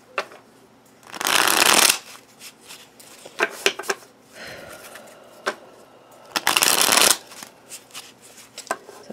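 Oracle cards being shuffled close up in two loud riffling bursts, with lighter taps and card handling between them.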